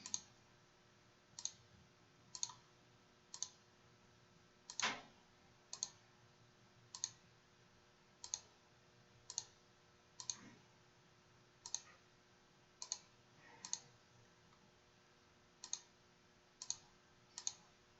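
A computer mouse clicks at a steady, unhurried pace, each sharp, quiet click separated by about a second, alone in a very quiet room.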